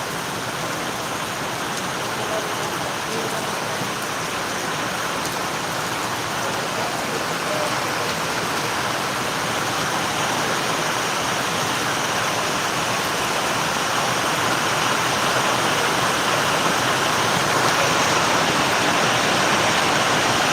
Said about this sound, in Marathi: भरपूर प्रमाणात पाऊस चालू या ठिकाणी